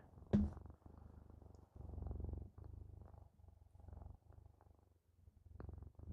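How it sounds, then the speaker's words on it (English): Close, quiet cat purring in rhythmic pulses, each rumbling breath rising and falling, with a brief click near the start. "She's all purrs."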